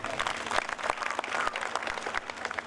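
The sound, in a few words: crowd applauding village youths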